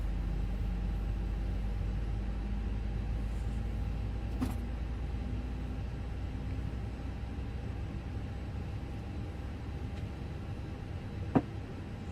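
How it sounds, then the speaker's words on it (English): Engine 2 of a Fenix A320 airliner spooling up in a flight simulator, a steady low rumbling whoosh with a faint rising whine and a couple of soft clicks, heard alone without talk. "Engine 2's coming on."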